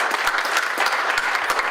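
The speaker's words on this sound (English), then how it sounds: "So please give him a round of applause." Conference attendees applaud together in a brief burst of brisk, many-handed clapping, fairly close and with no speech over it.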